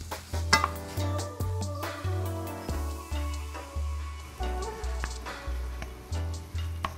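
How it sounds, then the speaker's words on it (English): Onions and garlic caramelizing in a pan over medium-high heat, stirred with about a dozen regular scraping strokes, each a short rasp under a low sizzle, close and alone without speech. "Make sure that you stir frequently."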